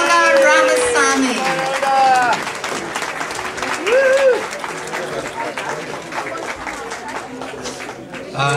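A room of dinner-dance guests at a winter gathering breaks into a sustained round of applause, loud and close, with voices speaking and exclaiming over the clapping throughout.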